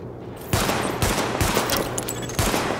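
A sidearm fires at highlighted targets in the video game The Division, a series of loud shots about half a second apart over a steady game background hum, with no talk.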